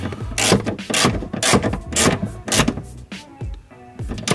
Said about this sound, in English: Now you don't want to go too tight with these bolts because they are going into plastic, so just nip them up.